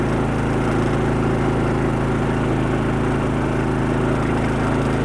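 Portable generator running under full load inside a DIY Styrofoam noise-reduction box, a steady continuous engine drone with a low mechanical hum, heard up close and alone.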